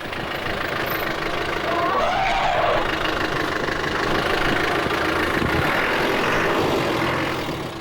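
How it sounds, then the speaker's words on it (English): A truck engine revs and idles steadily with a rough mechanical rumble on an African track where elephants block the way, the engine swelling and holding loud and near before easing off slightly. "Only the revving of the truck persuades them to go on their way."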